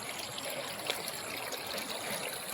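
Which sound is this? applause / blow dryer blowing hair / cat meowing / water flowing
water flowing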